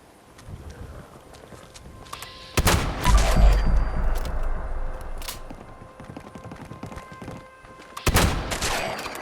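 Gunfire from a mid-range weapon in the video game Fallout 76: two loud, sharp volleys crack out several seconds apart, with scattered smaller shots and a rumbling tail between them. No voices.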